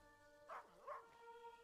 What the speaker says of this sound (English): Oh no, it's the dog.